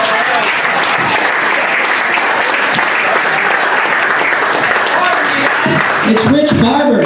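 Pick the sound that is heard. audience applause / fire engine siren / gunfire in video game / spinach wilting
audience applause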